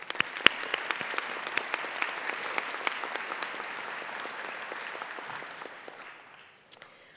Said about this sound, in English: Let's give those supporters another round of applause.